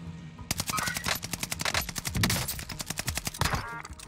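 Rapid bursts of automatic gunfire in Call of Duty: Warzone Pacific crackle almost nonstop, loud and close, with sharp repeated shots forming a dense, rattling barrage.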